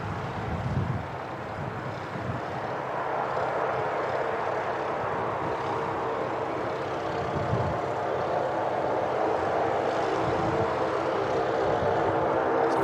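An Air Chathams charter aircraft taxiing at Christchurch Airport gives off a steady, noisy propeller-engine drone that swells slightly over time, with some wind noise.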